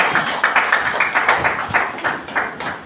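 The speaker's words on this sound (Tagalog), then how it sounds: "Palapakan si Yahweh Al-Shaddai." A congregation at an Al-Shaddai worship service claps in a steady rhythmic beat, about three or four claps a second, loud and close, with no talk over it.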